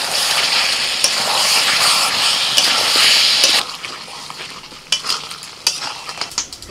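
Chicken with spices stirred and fried in a pan: a loud, steady sizzle for several seconds, then quieter scraping and clinking of a utensil against the pan in short bursts.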